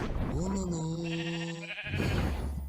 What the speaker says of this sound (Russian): Вызыватели могут сделать из синей овцы красную, произнося милую фразу «Олулу».